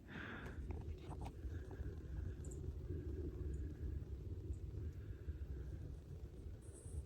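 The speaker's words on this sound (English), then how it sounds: "I can hear the roar of the cars going by" Distant road traffic with cars roaring past, heard as a steady low rumble that runs unbroken through the whole stretch, with no talk over it.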